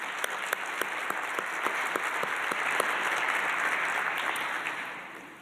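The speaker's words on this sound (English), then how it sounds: "Can we give them a round of applause?" A conference audience applauds its sponsors, including Pfizer, Lilly Oncology, AstraZeneca and the National Children's Cancer Society, with sustained, even clapping from a large room that swells slightly, then tapers off toward the end.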